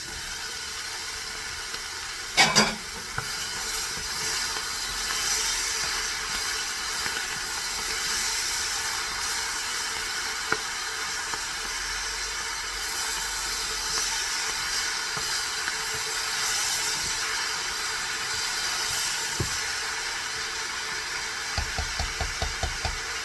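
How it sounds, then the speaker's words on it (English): A pan of Hungarian lecsó steams with a constant, even hiss as chopped tomatoes go in. A brief clatter comes early, and a few light knocks follow near the end. "It's really steamy now, so I'm going to add the chopped up tomatoes."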